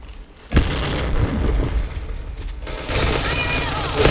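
Grenade blasts and gunfire in the shooter game Point Blank, a loud boom followed by sustained bursts of shots and explosions, with a second swell of noise near the end.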